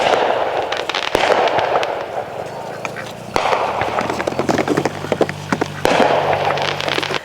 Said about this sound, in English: Oh, look at the fireworks.